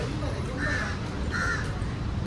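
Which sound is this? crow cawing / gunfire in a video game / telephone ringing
crow cawing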